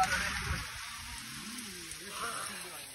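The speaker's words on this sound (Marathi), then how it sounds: "अफेट पाऊस अफेट पाऊस" Heavy rain falling outdoors during a roadside stop, a steady wash of broadband hiss with low rumbling beneath and faint voices talking.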